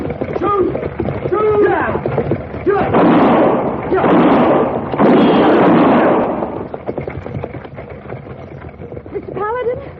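Several loud gunshots and bursts ring out in an old-time Western radio drama, clustered in heavy blasts over shouting and voices in the middle of the scene.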